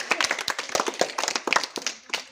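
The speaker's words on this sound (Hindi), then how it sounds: "ताली बजाओ इनके लिए।" Students in a classroom clap for a classmate's correct answer, a loose burst of individual claps from several people, close and uneven, lasting about two seconds.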